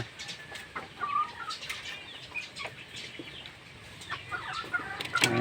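Small chickens clucking softly and intermittently at a distance, with wing flaps and faint outdoor background noise.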